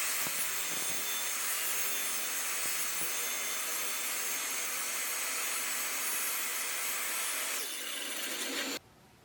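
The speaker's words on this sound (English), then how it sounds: "we're going to rip it through, but we're going to stop a little bit more than halfway through" A table saw rips along a board's edge, stopping a little more than halfway through the cut. The blade whines loudly and steadily close by with no talking, then winds down as the cut ends.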